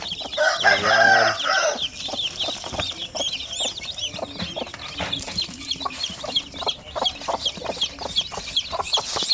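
Native chicks chirp in busy, high-pitched peeps throughout, close and lively, with a louder clucking burst near the start and no speech.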